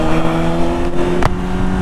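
A 2020 Yamaha R6 sports motorcycle engine drones loud and steady at high revs, close up, with wind buffeting and a brief clack partway through; no talking.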